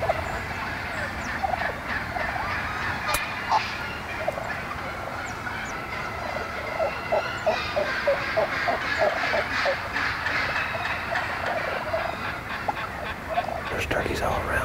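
Wild turkeys gobble repeatedly during a fall turkey hunt, several birds calling from near and farther off in overlapping bursts over a constant outdoor background.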